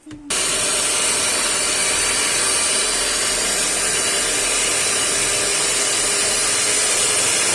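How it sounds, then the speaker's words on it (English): An electric mixer whips yoghurt cake batter with icing sugar at high speed, a loud, steady, continuous whir starting abruptly and running without pause or talking. "Whipping at very high heat for it to spread."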